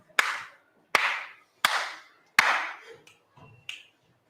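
Hand claps and finger snaps used for counting numbers in a numeracy lesson: four sharp, loud, evenly spaced hits followed by a few fainter, softer snaps, close to the microphone in a quiet room.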